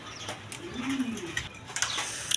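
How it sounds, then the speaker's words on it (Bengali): A pair of Indian Kaldom pigeons coo softly in a low rolling call near the middle, with scattered chirps and small clicks around them and no talk. "দর্শকবৃন্দ এখানে এক পেয়ার কালদম কবুতর আছে, ইন্ডিয়ান কালদম কবুতর দেখেন"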